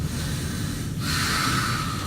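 A voice imitates the wet gurgling breathing of fluid in the lungs, a short raspy snort-like rattle up close that lasts about two seconds.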